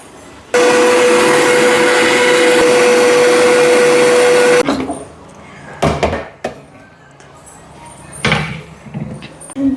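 Kitchen blender grinding banana, honey and avocado for a smoothie, a loud steady whirring motor for about four seconds that stops abruptly, followed by clattering and handling noises of the jar.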